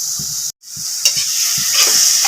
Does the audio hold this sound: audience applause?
no